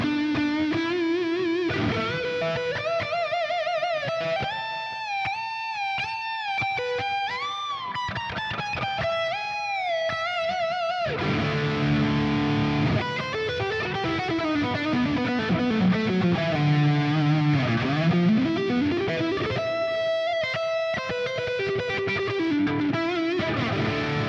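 Loud electric guitar with heavy distortion through a neck humbucker pickup, playing sustained chords and bending lead lines continuously, thick and saturated throughout.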